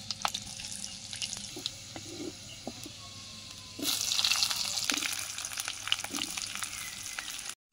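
Onions fry in oil in a wok. A quiet crackle with faint clinks turns midway into a louder, steady, continuous sizzle, with no talking.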